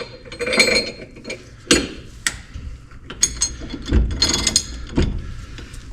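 A ratchet wrench clicks in quick bursts while working on the rear end of a BMW E46 M3, the metallic pawl clatter close and loud, with occasional clinks of tools between strokes.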